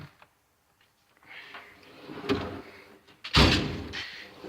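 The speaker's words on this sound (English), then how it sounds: "Next drawer," Home tool box drawer sliding open after a few small clicks: a rough rolling scrape followed by a louder clunk as it reaches the end of its travel, close and clear.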